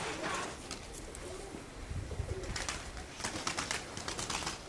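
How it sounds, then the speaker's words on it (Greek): A pigeon coos repeatedly, fairly close, in low rounded calls over outdoor ambience in Kozani in February, with a faint voice in the background. "Έρχεται ένα περιστέρι"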